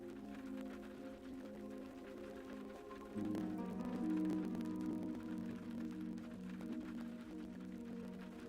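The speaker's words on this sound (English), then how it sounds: "The sound of the rain on the window faded into nothingness." Rain pattering steadily on a window in the visual novel game Mahoutsukai no Yoru, a soft, continuous hiss that swells slightly partway through, layered under quiet tonal background music with no talking.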